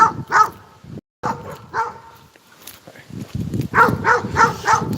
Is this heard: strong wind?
no